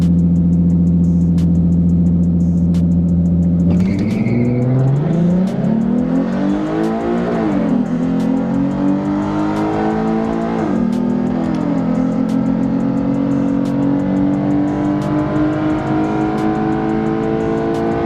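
Two bolt-on tuned 3.7L V6 S550 Ford Mustangs with long tube headers launch in a drag race, a loud steady idle breaking into hard revving acceleration with rising engine pitch through several gear changes, close and continuous.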